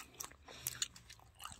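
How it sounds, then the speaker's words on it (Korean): Crispy whole fried chicken is bitten and chewed close up, giving several sharp, quiet crunches at irregular intervals over a soft background, with no talking. "바삭바삭 맛있어."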